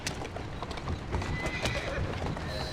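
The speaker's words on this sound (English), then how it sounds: "Who's a good horse?" Horse hooves clip-clop steadily on a rough street in Victorian London while the animal neighs, pulling a cart, with a voice speaking close over the hoofbeats and the bustle of a crowded district behind.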